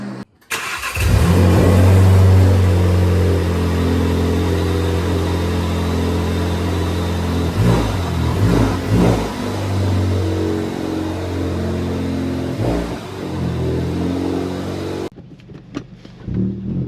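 A Volkswagen MK6 Jetta GLI on a test drive after a control arm replacement, its engine starting and then running steadily as a mid-pitched hum with a few rises in revs before it cuts off near the end.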